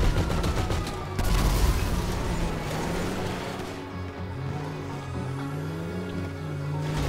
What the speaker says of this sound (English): We're getting shot up. We're getting shot from somewhere.